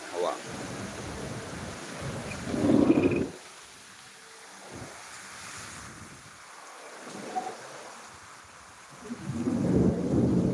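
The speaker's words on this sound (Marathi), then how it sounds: "विजांचा कडकडा समोर हवा चालते" Monsoon thunderstorm at the onset of the season in Deulgaon Raja: rumbling thunder bursts and heavy rain swell and fade in loud waves, with gusty wind and someone talking between them.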